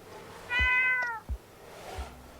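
A human voice imitates a cat's meow in a single drawn-out, high, catlike call, followed by faint low thumps in a quiet setting.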